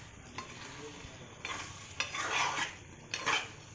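Oil sizzles in a pan while fish curry with bottle gourd cooks, in short rising bursts of frying crackle mixed with the clatter of stirring.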